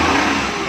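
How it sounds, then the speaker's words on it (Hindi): A Suzuki Bolan engine revving hard after running out of gas and being restarted, a loud, steady mid-pitched roar held close up with no voices over it. "ये देखें सही रेस दे रही है।"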